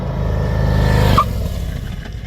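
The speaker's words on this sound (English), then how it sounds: "He's going to apply the brakes right at this black line here." A motorcycle engine drones loudly and rises in pitch, then drops off sharply as the rider brakes into a corner, leaving a lower, rougher idle-like rumble trailing away.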